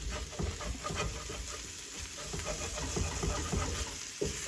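Tomato paste mixture stirred in a pan over heat for a plant-based sweet potato curry, a steady scraping and rustling with low sizzling, close and continuous with no talking.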